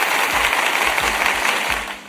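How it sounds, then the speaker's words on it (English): A short round of applause with dense, steady clapping from a group, fading slightly at the end, on a livestreamed radio podcast. "Let me hit them with a nice little round of applause."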